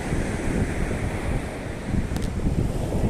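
Continuous roar of sea surf at Shankhumukham beach mixed with strong wind buffeting the microphone, loud and steady with no voices.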